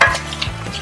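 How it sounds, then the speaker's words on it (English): Food sizzles in hot oil while a utensil scrapes and stirs in the pan, close up, with no talking. "just as we are frying up, just so we don't get stuck"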